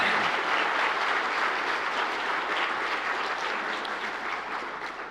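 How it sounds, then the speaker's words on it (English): An audience at a motion design studio party gives a steady, full round of applause for a colleague, dense clapping that holds throughout and only slightly softens toward the end. "Give her a round of applause."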